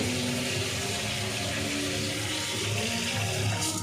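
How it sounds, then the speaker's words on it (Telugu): A kitchen water tap runs at full pressure, giving a steady, even rush of water throughout without any talking. "Kitchen tap also. ఇది కూడా స్పీడ్ బాగా వస్తుంది"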